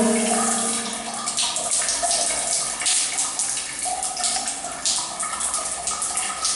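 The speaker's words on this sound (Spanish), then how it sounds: "Detallamos funcionamiento de la ducha, ducha funcionando de manera correcta, no está filtrando" A working shower runs with a steady, loud hiss of spraying water that continues without break.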